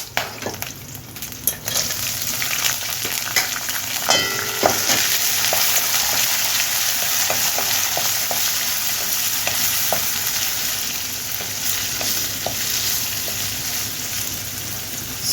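Onions, ginger pieces, dried red chilies and green chilies fry in a pan for instant tomato chutney, with a dense, even sizzle and intermittent stirring scrapes and clinks, close by and without speech.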